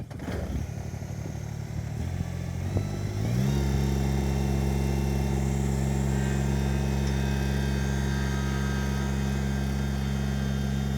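A Kubota BX subcompact tractor's engine starts and settles into a steady, loud idle with a strong low droning hum and harmonics, rising in pitch once around the three-second mark before holding constant.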